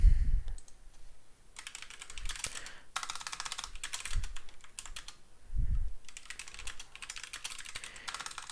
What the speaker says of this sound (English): oh my gosh, my typing is so bad.